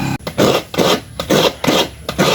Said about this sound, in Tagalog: So ito po yung manumanong pagkukudkod ng nyog.